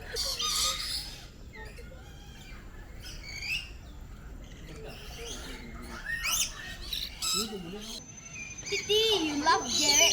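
Birds at a bird park in Kuala Lumpur squawk and chirp in repeated shrill bursts close by, over a steady background murmur of visitors talking.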